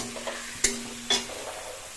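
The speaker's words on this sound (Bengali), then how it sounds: "এখন আমিও একটু এখানে নাড়িয়ে চাড়িয়ে নিচ্ছি" A spoon stirs soybean curry with whole garlic and spices in a frying pan. There are two sharp scraping knocks over a steady low sizzle, close and moderately loud, with no voices.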